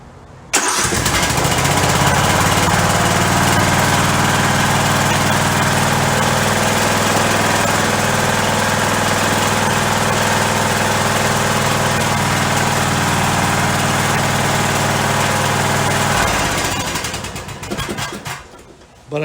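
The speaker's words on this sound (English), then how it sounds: "the Kohler Courageous. They have got big counterweights on them, and the engines do tend to make some noise." An Ariens Zoom 34 ZT zero-turn mower with a Kohler Courageous engine starts and runs loud and steady at close range, a rough mechanical drone lasting about fifteen seconds before cutting off.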